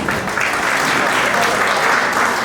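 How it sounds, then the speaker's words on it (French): Dense, steady applause from an audience fills the whole stretch, honouring children at a family welcome-to-America celebration; the clapping stays loud and even, with faint voices mixed into the crowd. "Est-ce qu'on peut encore applaudir pour ces enfants?"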